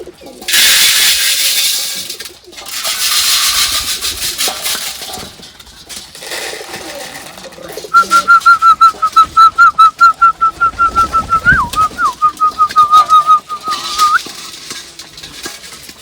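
Fantail pigeons in a newly opened loft give soft cooing and bird calls, with a pulsing whistle-like tone running through the middle and some nearby handling noise.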